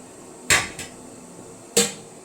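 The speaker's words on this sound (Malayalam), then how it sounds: "ഇനി നമുക്കിതിവിടെ മൂടി വെക്കാം കേട്ടോ." A metal lid is set onto a cooking pot holding vattayappam for steaming: one sharp clank, a small follow-up tap, then a second clear clank, close and distinct in a quiet kitchen.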